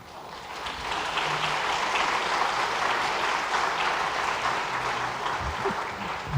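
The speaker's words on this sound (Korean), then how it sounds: "우리 한 번 더 박수하도록 하겠습니다" A congregation applauds during a Sunday church service, steady broadband clapping from many hands that fills the room for the whole stretch, fairly loud and even, with no talking over it.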